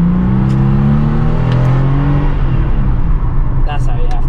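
A car without mirrors or paddle shifters accelerating hard, engine note rising steadily as it pulls through the gear, loud and close, with someone talking over it.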